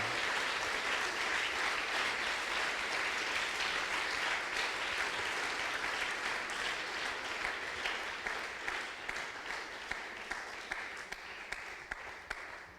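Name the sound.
congregation applause in church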